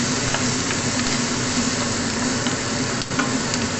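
Garlic and onion frying in oil in a pan for a pork and vegetable dish, a steady dense sizzle with a light stirring scrape, close and constant throughout.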